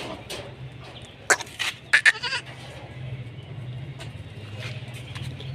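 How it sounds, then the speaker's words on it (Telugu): Goats on a farm give a few short, close bleats in a quick cluster over a faint low background hum. "ఇగో మన మేకలు అయితే చూడండి గైస్"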